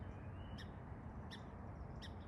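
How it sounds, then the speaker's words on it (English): Sharp chip notes from an agitated bird repeat about three times at an even pace, moderately distant over a steady wash of outdoor background noise. "These sharp, repeated chip notes are agitation calls."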